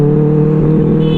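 A Benelli 600i motorcycle fitted with an Ixill exhaust pulls hard under acceleration, its loud, steady engine drone close and unbroken for about a second, with no voices.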